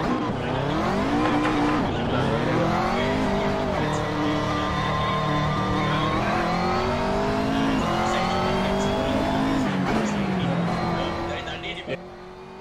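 Race car in a racing video game during a five-minute qualifying session, engine revving loud and near through repeated upshifts and pitch climbs, then fading toward the end, with a faint tire squeal.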